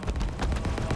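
Grunts firing their pistols during combat in the Halo Infinite video game, heard as a dense, rapid volley of loud, overlapping shot bursts at a steady rhythm, close and continuous throughout with no talking.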